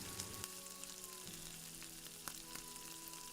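Garlic and onion sizzle steadily in hot cooking oil for a Filipino ginataang langka with crab, a soft continuous frying crackle with occasional sharper pops and a faint tonal hum in the background, no voices.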